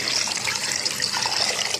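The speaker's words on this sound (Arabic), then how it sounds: "هنزل عليها بالشوربه" Broth is poured over zucchini simmering with meat in a pan, a brief, close, steady splashing pour lasting under two seconds.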